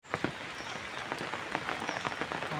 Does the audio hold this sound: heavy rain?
yes